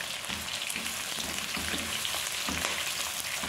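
Onions for chicken fajitas fry in a pan, a steady close sizzle and crackle with occasional stirring scrapes, continuous and unbroken without talk.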